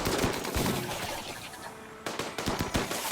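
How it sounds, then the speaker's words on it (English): Gunfire in RimWorld as colonists fight at a mech hive, a fairly quiet stretch of rapid, crackling shots that fades briefly in the middle, then returns as a few sharper bursts, with no talking. "I like how he immediately started shooting the Hive out."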